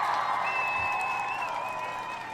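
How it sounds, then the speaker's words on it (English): An audience claps for the Umoja babies at a morning gathering, with steady applause under a sustained tonal ringing, moderately loud and even throughout. "We want to give all of the Umoja babies a round of applause"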